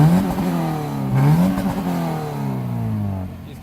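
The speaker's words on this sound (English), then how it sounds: "Keep revving it all the way up." A Scion FR-S fitted with an SBD front pipe and over pipe revs hard, its engine note climbing twice in quick sweeps and then falling away, loud and close with a raspy exhaust tone.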